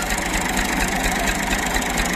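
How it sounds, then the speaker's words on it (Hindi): A tractor engine idles steadily just after starting, a loud continuous low rumble and mid-range drone that holds constant without pauses, with no voices over it. "ट्रैक्टर जो है वो स्टार्ट हो चुका है"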